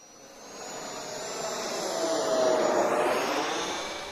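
Retractable electric ducted fan on a DFS Habicht model glider, a steady high-pitched whine with a broad rushing hiss that swells gradually and peaks midway before easing slightly, continuous and fairly loud, no talking.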